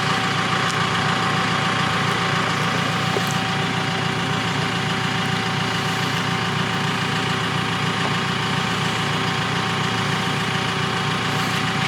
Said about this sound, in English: I've just given Foxy a quick crash course in how to drive a JCB telly truck.